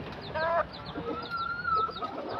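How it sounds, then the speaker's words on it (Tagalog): A white labuyo jungle fowl clucks close by in a short burst of a few pitched calls, followed by softer chirps and rustling. "At ito ang ating special labuyo, si Puti."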